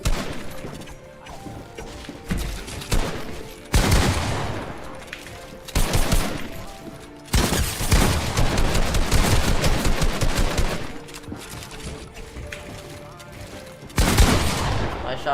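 Rapid AR gunfire in a Fortnite box fight, loud bursts of automatic shots in repeated clusters with crashes and thuds between, over background game audio.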